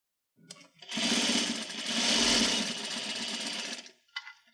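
A sewing machine stitches around the edge of a fabric utensil wrap, a close, loud, steady whirring rattle of rapid needle strokes lasting about three seconds, preceded and followed by brief quieter handling.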